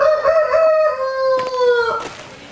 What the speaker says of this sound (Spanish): Ahí está la gallina, ¿eh?